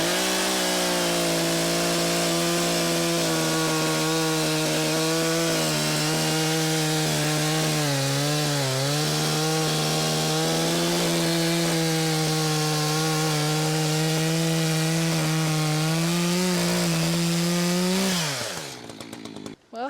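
A chainsaw cutting firewood runs loud and close at a steady buzzing pitch for nearly the whole stretch, dipping briefly under load, then winds down at the end.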